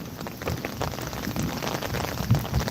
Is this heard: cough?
no